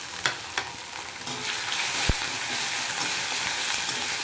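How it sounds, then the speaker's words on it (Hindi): Crushed ginger and green chilli paste frying with bay leaf in hot oil for a pumpkin, potato and white pea curry, a steady bright sizzle after a few sharp clinks as it drops into the pan. "ये जो अदरक और हरे मिर्च का पेड़ कुटा हुआ था इसको डाल लीजिए।"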